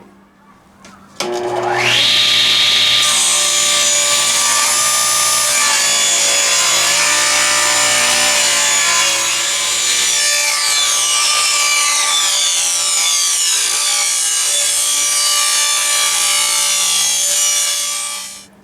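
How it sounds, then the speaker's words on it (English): A table saw spins up and then cuts wood panels to size in one loud, steady, high-pitched whine that holds for over fifteen seconds before stopping. "So let's hit the table saw."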